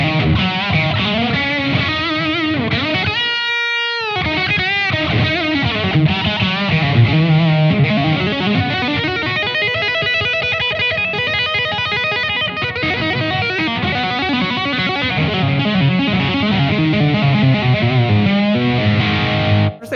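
Distorted electric guitar lead tone played through a Blackstar AMPED-1 100-watt pedalboard amp with reverb and a volume boost, sustained notes and bends running loud and continuous with one brief gap near the start, no talking.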